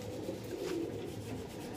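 A female pigeon coos softly once, low and muffled against a steady background hum.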